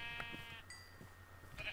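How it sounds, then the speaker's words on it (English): Sheep bleat in a Minecraft-style hardcore survival video game, a few short bleats spread across the clip over a steady background hum, with no talking. "I'm gonna go kill these sheep for food."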